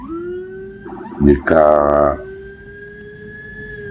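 An ambulance siren wails steadily through heavy traffic congestion, sustained tones running throughout with a louder, harsher burst in the middle, while a person talks over it.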